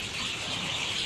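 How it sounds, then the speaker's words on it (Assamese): A dense mass of birds roosting in a village tree in Assam at dusk, a continuous wash of overlapping chirps and calls, steady and moderately loud for a brief moment. "হাজাৰ হাজাৰ লাখ লাখ চৰাই আছে এজোপা গছত।"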